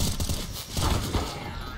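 Grenade blast in a Counter-Strike: Global Offensive match, heard as a loud burst with rough rumbling among gunfire-like bangs over roughly two seconds, no talk over it.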